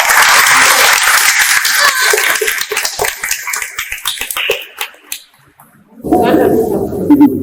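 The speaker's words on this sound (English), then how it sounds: "Let's give them a round of applause." An audience at a Children's Day celebration and children's section launch gives a round of applause, loud and dense at first, then thinning into scattered claps before a brief pause; a voice speaks near the end.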